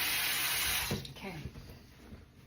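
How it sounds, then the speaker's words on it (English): Tap water runs into a bathroom sink while a face is rinsed, a loud, steady gush that cuts off after about a second, followed by scattered drips and splashes. "I'm gonna rinse off my face"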